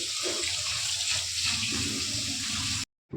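Tap water runs in a steady, continuous stream into a sink while raw chicken is washed before marinating, close and fairly loud, then cuts off abruptly near the end.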